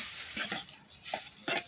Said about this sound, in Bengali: এই যে এবার এর মধ্যে আলুটা ছেড়ে দেবো। যে আলুটাকে একটু কাই কাই করে তৈরি করে নেবো, ভালো করে নাড়াচাড়া দিয়ে।